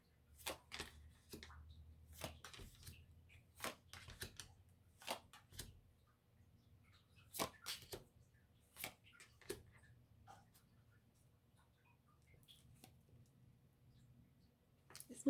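A deck of tarot cards is handled and shuffled close by in a quiet room, with irregular soft clicks and riffles scattered throughout and faint low background noise between them.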